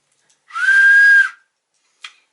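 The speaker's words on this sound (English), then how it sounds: "It has a whistle" A single shrill toy whistle blast lasts under a second, followed by a brief faint chirp a moment later.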